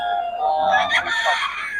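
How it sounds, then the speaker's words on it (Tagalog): Roosters and chickens kept by a breeder in Pangasinan, one rooster crowing loudly and close with a rising, warbling call over a tonal background of other birds. "Ayan mga manok niya."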